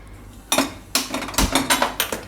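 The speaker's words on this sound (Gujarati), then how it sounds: "તો આ કઢાઈ લીધી છે, ગેસ ચાલુ કરશું." A metal kadhai is set down on a gas stove, several sharp clanging knocks of metal on metal spaced unevenly over a couple of seconds, close and fairly loud with no talk.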